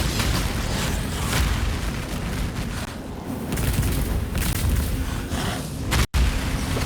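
Firestorm fire spell in Path of Exile makes a dense, continuous roar of overlapping fiery explosions, loud and unbroken apart from a brief cut near the end.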